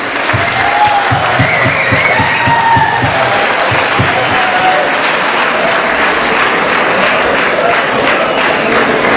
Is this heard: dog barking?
no